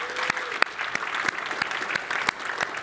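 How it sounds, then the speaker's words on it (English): A conference audience gives a round of applause, with steady massed clapping and sharp individual claps standing out throughout a short burst. "If you wouldn't mind giving a round of applause to Daniel in case he watches this."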